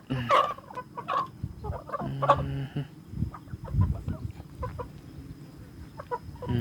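Breeding chickens bought as stock cluck and squawk in a busy yard, with a brief louder call rising above the steady flock chatter and rustle at close range.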